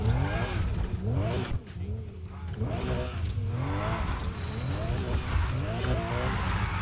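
A Subaru BRZ with a Rocket Bunny body kit revs and slides through drifts in the racing game NFS Heat, its engine rising and falling in repeated sweeps with tire squeal, while someone talks over it.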